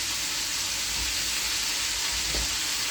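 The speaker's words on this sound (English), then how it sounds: "Our chicken is frying nicely." Chicken pieces frying in a pan for a New Year's dinner of sweet chilli chicken, giving a steady close sizzle with soft hissing throughout and no voices.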